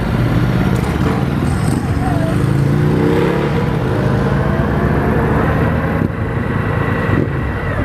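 Motorcycles and other vehicles pass close by on the Tail of the Dragon mountain road in North Carolina, with steady engine noise and a revving swell throughout, while someone speaks over the traffic.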